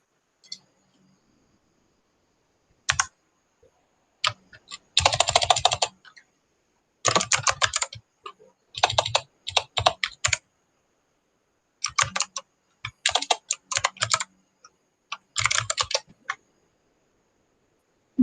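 Computer keyboard keys clatter in quick, irregular bursts of typing separated by short pauses, close and crisp, with no voices.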